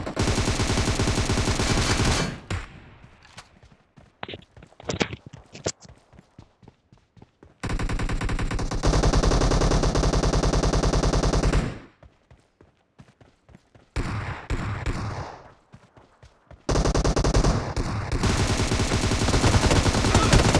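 Video game gunfire from Kar98k and M762 rifles rings out in long, dense bursts of automatic fire alternating with sharp single shots and brief quiet gaps. The shots are loud and close.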